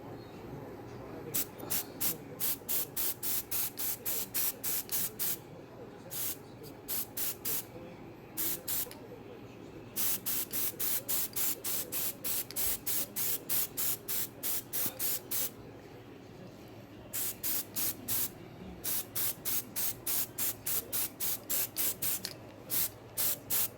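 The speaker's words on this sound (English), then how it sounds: "spray these bags with the adhesive spray" Repeated short bursts of adhesive aerosol spray hissing onto bags, in quick rhythmic pulses with brief pauses between groups, close by.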